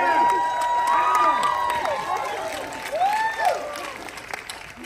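Audience applause and cheering fill a theater after a Barbie film screening at the SVA Theater in New York, a steady wash of clapping with scattered whoops and voices calling out, fairly loud throughout.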